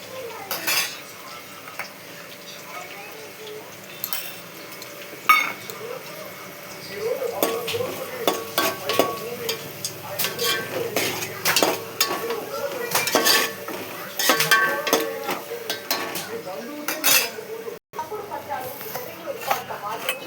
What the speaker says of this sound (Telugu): ఉల్లిపాయ, పచ్చిమిర్చి, కరివేపాకు వేసుకున్నాం.